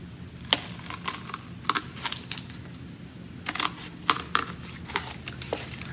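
Cardboard being cut into slits for an upcycled rainbow art project, giving a run of sharp, close snipping and crunching clicks in uneven bursts against a quiet room.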